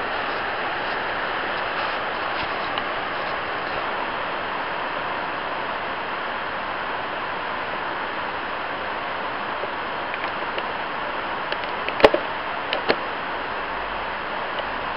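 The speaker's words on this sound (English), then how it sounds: "it's pissing down with the rain outside" Heavy rain pouring down outside a shed in Wodonga, a steady, dense hiss of falling water that stays constant throughout, with a few faint knocks near the end and no talking.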